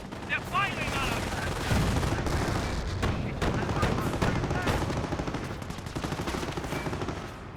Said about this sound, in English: They're firing on us!